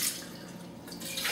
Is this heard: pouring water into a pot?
yes